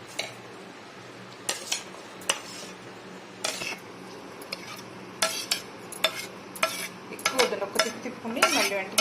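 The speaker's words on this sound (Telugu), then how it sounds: "దొండకాయ వేస్తాను" Ivy gourd pieces tossed into a pan with garlic and green chilli, sharp metallic spoon scrapes and clinks against the pan coming in irregular bursts over a low frying hiss.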